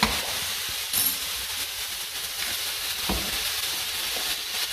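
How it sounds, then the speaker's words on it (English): Dry spices sizzle in a hot pan for mulligatawny soup, a steady close hiss with a few faint clinks, no talking. "we'll introduce the dry spices to let it cook out"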